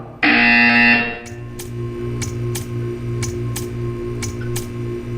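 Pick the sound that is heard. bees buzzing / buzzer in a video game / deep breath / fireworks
buzzer in a video game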